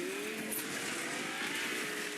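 A car in the video game Fortnite drives with its tires squealing, a steady engine drone with a rising skid whine, close and moderately loud with no talk.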